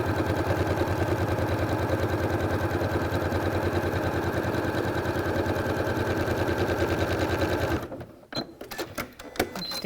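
A sewing machine with a walking foot stitches quilting lines, running as a loud, close, rapid steady mechanical chatter for several seconds before stopping, followed by a few sharp clicks and handling knocks.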